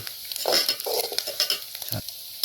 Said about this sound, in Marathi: मस्तपैकी आपला कांदा गरम झालेला आहे, आपण कढीपत्ता पण टाकलेला आहे त्याच्यामध्ये बघा